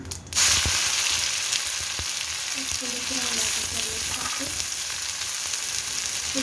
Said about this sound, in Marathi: जिरे तर तडायला लागले काही हिरवी मिरची आणि लसूण वाटून घेतलेले आहे तर हे टाकायचं आहे